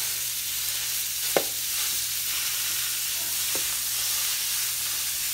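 Just over a pound of ground beef fries in a skillet with a dense, continuous sizzle, broken by a couple of sharp scrapes as the meat is mashed, close and steady, no voices.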